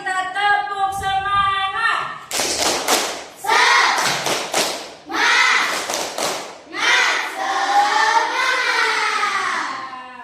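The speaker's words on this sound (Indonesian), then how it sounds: "ayo kita tepuk semangat" A school class performs a rhythmic clapping chant, sharp claps and thumps in bursts with children's voices chanting along, the group sound coming in several loud waves separated by short pauses.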